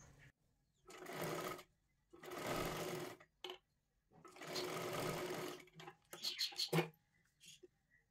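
Sewing machine stitching a katori blouse, running in three long close bursts separated by pauses, followed by a few short stop-start jabs and quiet handling noises.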